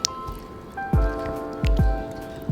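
Korean cold noodles stirred in cold water, with several wet squishy slaps and drips that come in irregular bursts, along with a faint clink of utensils.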